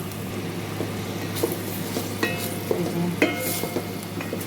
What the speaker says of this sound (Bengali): মুগ ডালটা একটু কষিয়ে নিচ্ছি